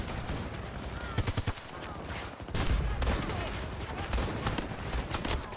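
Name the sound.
shotgun fired point blank in Battlefield 2042 video game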